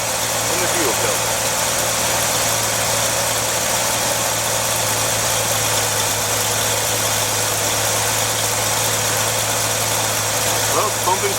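A 1968 Chevy C10 pickup's engine idles steadily and loudly throughout, a constant low rumble with a broad mechanical hiss on top, running just after being started on a splash of gas.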